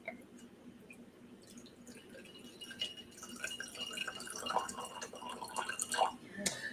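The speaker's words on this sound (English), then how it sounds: "you can also hear the difference in the pours" Cabernet Sauvignon pours through an aerator into a glass, a soft, trickling stream of liquid that grows busier and splashier toward the end. Quiet talk runs underneath.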